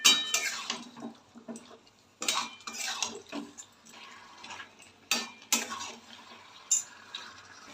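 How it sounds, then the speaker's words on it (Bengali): A spoon or spatula clinks and scrapes against a pan as mutton curry with tomato cooks slowly for kosha mangsho, giving irregular metallic knocks and stirring strokes, close and fairly loud, with quieter gaps between them. "এবার মাংসটা আমি সময় নিয়ে কষাতে থাকবো।"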